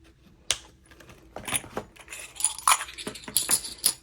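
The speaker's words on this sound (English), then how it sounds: "I love the sound of the metal discs." Metal planner discs clicking and snapping as they are squeezed into a planner, a run of sharp, close metallic clicks and taps with brief rustling between them, no talking.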